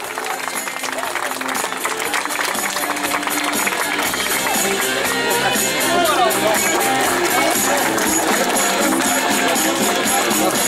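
Sustained applause from a crowd at a rally car race awards ceremony in Shipka 2013, steady and loud throughout with a voice talking over it and engines idling faintly nearby.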